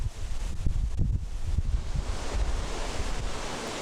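Waves surge against the rocky cliffs of Taejongdae in Busan as a steady, rumbling wash of surf, with wind buffeting the microphone and no voices.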